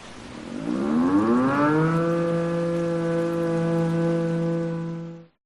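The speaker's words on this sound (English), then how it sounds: "Then the air raid siren at the lodge cranked up" A civil defense air raid siren at a lodge winds up from a low growl to a steady, loud sustained wail over a faint rain-like hiss, holding its pitch before cutting off abruptly at the end.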